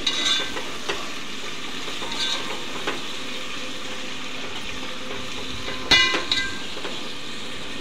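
Mint and fried onions frying and stirred in a pan, a constant hissing sizzle with a few soft scraping stirs and a louder clatter near the end, close by and without speech.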